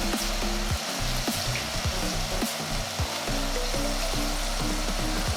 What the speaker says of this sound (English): We really wanna get a nice hard sear on these. And you can hear it already.